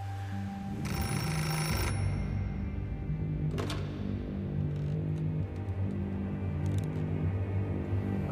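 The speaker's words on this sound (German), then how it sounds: "Das Telefon hat nicht mehr geklingelt" A telephone rings in a 2014 German crime drama: a single bright ringing burst over a low, steady hum and a soft musical background.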